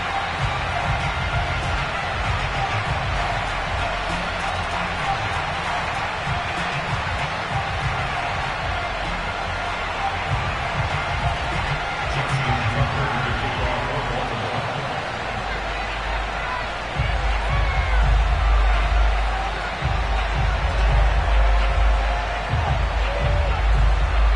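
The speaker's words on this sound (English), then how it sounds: "this place got even louder a short time ago as the Falcons were introduced to this sellout crowd" Loud stadium crowd roar in an EA Sports NFL football video game, a sellout crowd before the Atlanta Falcons face the Baltimore Ravens, a steady dense hubbub that swells louder toward the end.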